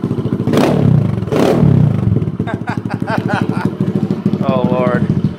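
A 2009 Kawasaki KLX140L dirt bike with a Big Gun full exhaust idles with no choke, a steady, throaty putter, briefly blipped twice early on, with loud harmonic rumble throughout.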